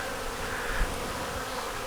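Honey bees buzzing in a nuc hive, a steady close droning hum that holds evenly throughout without pauses.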